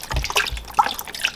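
Beef broth poured into a crockpot over meat, a brief splashing and dripping trickle of liquid, close and moderately loud.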